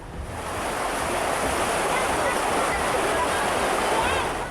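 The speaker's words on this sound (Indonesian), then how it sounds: "Jebolnya tanggul Sungai Tuntang membuat air mengalir deras, membanjiri persawahan dan permukiman warga." Floodwater rushes hard after the Tuntang River embankment bursts, flooding rice fields and villages in Demak, a loud continuous roar of churning water with wind noise and no break.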